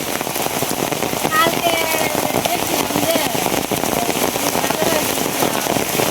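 Steady rain pours down throughout in a flood-prone rural area of Bangladesh during monsoon weather, a dense, even hiss of drops pattering on surfaces nearby, with no break in intensity.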